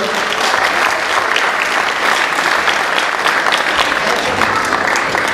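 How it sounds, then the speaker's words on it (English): Loud, sustained audience applause at a Diwali celebration, honoring the previous committee: dense crowd clapping, even and unbroken from start to finish. "please have a big round of applause for the previous CSI committee"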